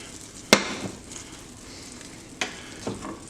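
A small pat of unsalted butter melting in a pan over a soft, low sizzle, with a few brief clicks and taps from a utensil.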